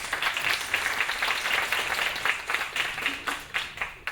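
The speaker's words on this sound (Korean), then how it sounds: "네, 큰 박수로 환영 부탁드립니다." An indoor audience at a presentation applauds to welcome a speaker, steady clapping from many hands at moderate volume with no talking.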